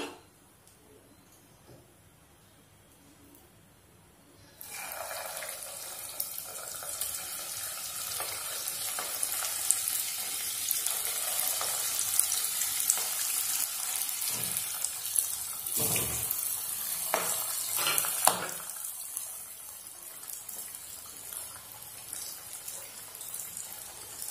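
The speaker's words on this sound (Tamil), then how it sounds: "இப்போ பாருங்கள் எண்ணெய் வந்து நல்லா காஞ்சிச்சு இப்போ நாம் இதை போட்டு எடுத்துடலாம்" Drumstick leaf bonda balls dropped into hot oil and deep-frying: after a few quiet seconds, a sudden loud bubbling sizzle sets in and holds steady, with occasional utensil clatter, easing slightly near the end.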